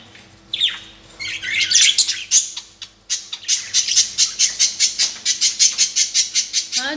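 Pet parrots squawk loudly and close by in a fast, steady series of harsh calls, after a few earlier shrill cries, with no talking over them.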